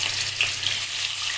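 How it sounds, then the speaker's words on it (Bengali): Fish fries in hot oil in a wok, a brief steady bubbling hiss close up with no talking. "এই যে এখন মাছ ভাজি করব।"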